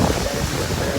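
Ocean surf rushing in under strong, cold wind, a loud, dense wash of water and wind buffeting close to the microphone with no talking.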